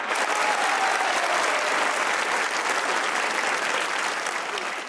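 A studio audience at a Pakistani TV comedy talk show claps steadily and densely, a full, even wash of applause lasting throughout.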